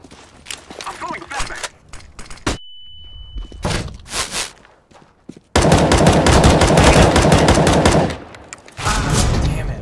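Gunfire in CS:GO, with sharp shots close by, a few single cracks at first and then a dense, loud sustained volley, with someone talking over parts of it.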